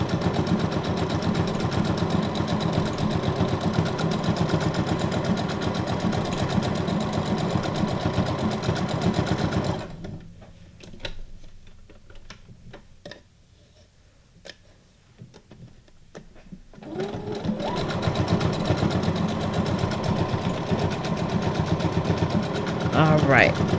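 A sewing machine stitches paper junk journal tags with a close, steady, rhythmic whirring hum. It drops to quieter ticking for several seconds midway, then the hum resumes.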